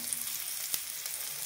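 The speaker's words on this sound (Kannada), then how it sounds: "ಸ್ವಲ್ಪ ಕರಿಬೇವು ಹಾಕಿ ಫ್ರೈ ಮಾಡಬೇಕು ಫ್ರೆಂಡ್ಸ್" Curry leaves fry with garlic and onion in hot oil, giving a steady soft sizzle with one brief sharp crackle partway through.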